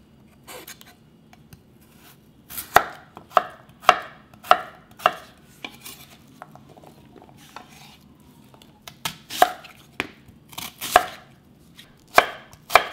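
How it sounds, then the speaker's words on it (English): A knife chops carrot and onion into cubes on a cutting board for Korean curry rice. The crisp, evenly spaced knocks come in bursts, close and loud, with short pauses between runs and no talking. "I'm going to chop these all vegetables and put them on this plate. Cut into cubes."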